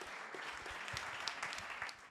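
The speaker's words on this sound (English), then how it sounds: "Give a lot of applause to SPOTR also." Audience applause fills a room at a startup pitch event, a steady, dense patter of many hands clapping at moderate distance that holds evenly throughout without pause.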